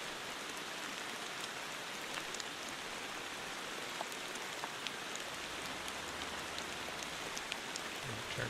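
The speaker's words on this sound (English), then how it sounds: "Turn down that rain volume." Steady rain in the Motortown video game, a constant hiss of raindrops spattering on surfaces with even density and no breaks, fairly loud and alone.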